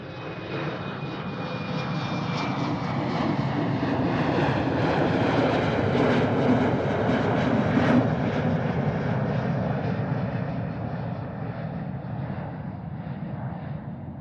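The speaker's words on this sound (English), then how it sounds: "A330 Delta Airlines." A Delta Air Lines Airbus A330 jet takes off at Amsterdam Schiphol, its engines giving a loud, steady, broadband roar that holds for the whole stretch with a slight swell in the middle.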